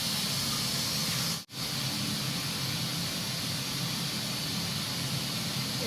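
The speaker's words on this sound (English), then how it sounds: "It will release automatic the steam, no? The pressure." An electric pressure cooker vents steam on its own, a steady, loud, close hiss that runs almost unbroken with one brief dip, while a soup is cooked.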